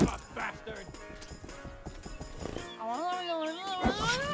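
Horses in the video game Rustler: clip-clopping hooves and a whinny over background game music, with a person talking throughout.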